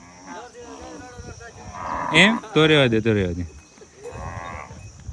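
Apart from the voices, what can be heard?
cows mooing in a herd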